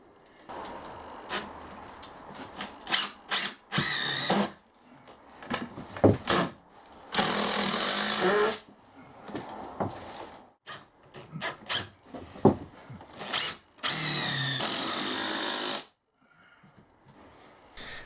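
Power drill driving screws into OSB boards being fixed to a ceiling while lining a DIY shed interior, heard as repeated close, loud whirring bursts of varying length separated by short pauses and handling knocks.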